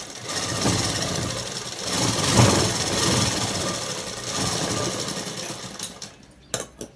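A sewing machine stitches cloth for a peplum top dress over flared pants, a steady mechanical whirring run in a few long bursts that stops near the end, followed by a couple of sharp handling clicks.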